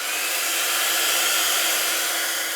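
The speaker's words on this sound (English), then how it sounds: "we're just going to force dry that with our heat gun" A heat gun blows steadily to force-dry textured paint, a loud continuous airy whoosh with no breaks.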